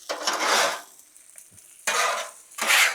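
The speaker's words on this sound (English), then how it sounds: "Let's mix all this up," Sausage and potatoes are stirred on a Blackstone griddle, three loud scraping, sizzling spatula sweeps with quiet pauses between them, close up and with no talk.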